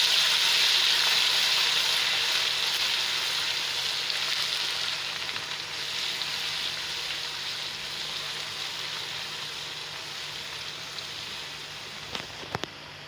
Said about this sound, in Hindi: अब ये जो है इसमें हमने अदरक, लहसुन और हरी मिर्च का पेस्ट डालेंगे, और ये कोशर के लिए मसाला भूनेंगे।